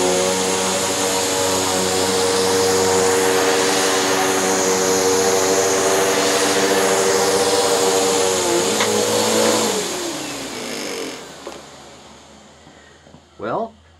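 A Bissell upright vacuum cleaner runs on medium-pile carpet at medium height, edge cleaning with a loud, steady motor whine that winds down and stops, followed by a few brief knocks.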